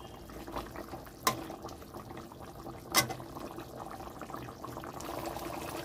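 Mustard-poppy fish curry with bele fish bubbles in a pan, a quiet, steady simmer of small gurgles and pops with a couple of sharp clinks standing out.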